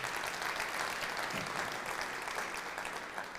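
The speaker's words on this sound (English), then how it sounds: "Give her a round of applause." A round of applause from a live audience at a State of the City event, a steady, even roar of many hands clapping throughout, heard alone without speech.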